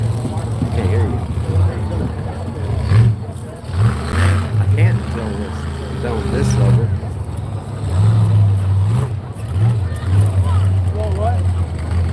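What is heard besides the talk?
monster truck engine revving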